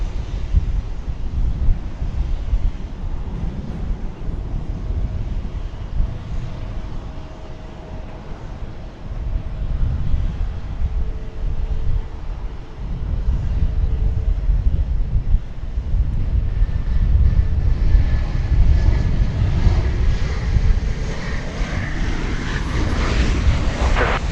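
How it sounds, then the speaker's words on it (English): An American Airlines Boeing 737-800 arriving from El Paso lands at DFW airport, a steady broad engine roar building toward the end with wind buffeting the microphone, and no talking. "This will be a 737-800 coming in from the city of El Paso in West Texas."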